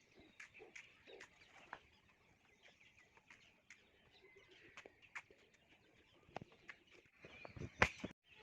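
Pigeons on a house rooftop give faint, scattered coos and soft calls, with occasional sharp clicks and flutters. The sounds come at irregular intervals against a quiet background, and no one speaks.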